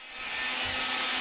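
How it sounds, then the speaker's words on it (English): A household vacuum cleaner sucks up crumbs at a preschool party, a brief, steady high-pitched whine and airy rush that rises quickly and holds, fairly close. "We'll get on the vacuum over there."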